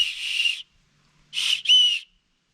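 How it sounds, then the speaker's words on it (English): An emergency whistle clipped to a backpack strap, blown in three sharp, shrill blasts: one long, then two quick ones close together, loud and near with no talk. "I can whistle."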